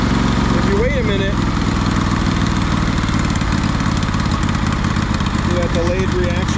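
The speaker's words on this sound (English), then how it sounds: "when you first go down on the throttle, the idle is too high, but then if you wait a minute" A 2004 Craftsman DLT3000 lawn tractor engine idles steadily and loudly after the throttle is pulled down, running at a fast, slightly uneven idle, with someone talking over it.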